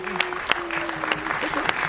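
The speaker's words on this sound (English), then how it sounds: "Please give yourselves a big round of applause." Cruise ship guests applaud in a room aboard the ship, a brief patter of clapping with a voice audible underneath.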